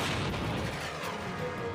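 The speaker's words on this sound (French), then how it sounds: "Ils ont alors tiré un deuxième obus." A Panther tank's long main gun fires a shell, a heavy booming blast with a rolling, reverberant tail that lingers for over a second.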